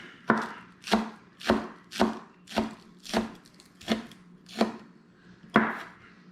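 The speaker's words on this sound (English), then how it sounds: "Cut it in small, tiny pieces." A knife chops onion into small pieces on a cutting board for fried rice: nine crisp, evenly spaced chops, loud and close, with no talking.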